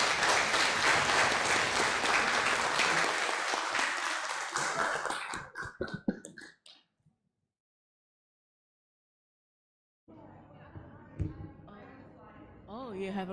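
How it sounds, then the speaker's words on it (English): Loud applause from an audience welcoming a speaker at a university English club grand opening and talk show fills the first seconds, fades out into silence, then a voice begins talking. "please give a huge round of applause, Dr. Patricia Gale Patrick"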